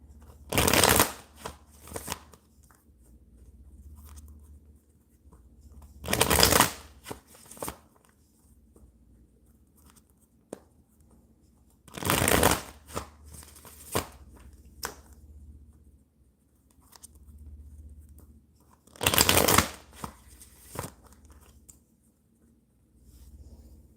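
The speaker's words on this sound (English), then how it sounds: "3 more shuffles." Tarot cards shuffled in four separate bursts spaced several seconds apart, each a quick riffling flutter, with quiet handling sounds in between.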